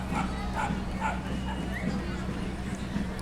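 Dog at a firemen's parade giving a few yips and short barks amid crowd noise and people talking, moderately distant.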